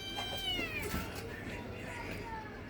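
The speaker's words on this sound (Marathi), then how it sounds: "तर हे बघा खालून आवाज येतोय मांजरीचा" A cat meows repeatedly from somewhere below, its drawn-out, wavering cries sounding faint and slightly distant in a quiet indoor space.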